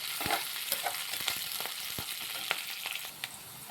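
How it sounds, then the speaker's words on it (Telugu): Onions frying in hot oil for a tomato dal, a steady close sizzle with scattered crackles and pops throughout, no voices. "ఉల్లిపాయలు బ్రౌన్ కలర్ వచ్చేంత వరకు ఫ్రై చేసుకుందాం ఫ్రెండ్స్"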